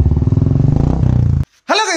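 A Royal Enfield Bullet motorcycle runs with its silencer removed, giving a loud, close, rapid thumping idle for about a second and a half before cutting off abruptly. A brief voice follows.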